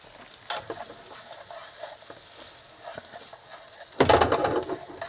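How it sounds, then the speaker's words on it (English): Onions and pre-cooked potatoes frying in a pan while being stirred, with a steady sizzle broken by scraping strokes and a louder burst of stirring near the end, at a camper-van cooking spot. "Remember, not too much stirring because you'll break the potatoes down"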